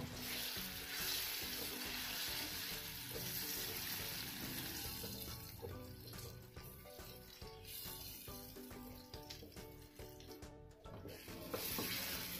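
Chana dal roasting in a kadhai, a steady dry sizzle with scattered crackles and scraping stirs, fairly quiet and continuous throughout.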